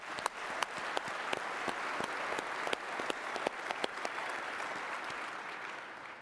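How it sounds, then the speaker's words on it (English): An audience gives a round of applause, dense continuous clapping with individual sharp claps standing out, moderately distant and even throughout, with no talking over it. "So, round of applause for Gene."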